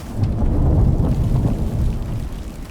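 A thunderstorm in the survival video game Icarus rumbles loudly and continuously, with deep rolling thunder and a rushing rain wash throughout.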